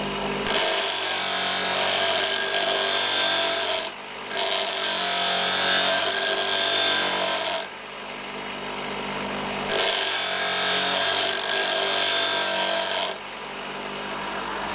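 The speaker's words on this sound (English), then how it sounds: "So we'll turn off the grinder." Bench grinder sharpening a drill bit held in a Bielo drill sharpening arm, a loud close whining grind that swells and eases in repeated passes as the bit is swung across the wheel.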